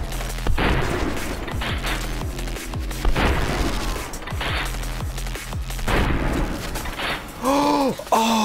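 Booming shotgun blasts in the VR game Hard Bullet, several loud shots spaced a second or two apart amid clattering mechanical handling sounds, with a brief voice near the end.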